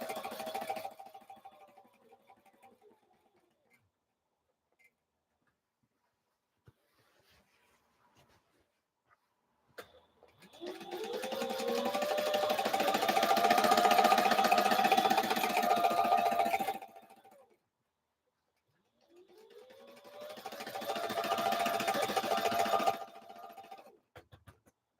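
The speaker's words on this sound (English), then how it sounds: "This is a Sailrite fabricator machine." A Sailrite Fabricator heavy-duty sewing machine stitches fabric panels for a large curtain, running in long steady bursts of fast rhythmic whirring and clatter, with quiet gaps between runs, close and clear.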